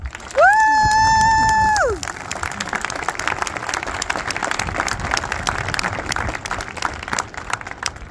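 Audience applause fills a senior award day ceremony in 2023, steady and sustained for several seconds right after a loud whooping cheer from someone in the crowd.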